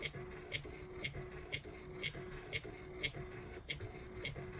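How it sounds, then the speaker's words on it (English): A small Nelko PP01 photo printer whirs and clicks in a regular rhythm, each pass ending in a soft tick, quiet and close with no talking. "you can hear it printing just like when you print with an inkjet printer"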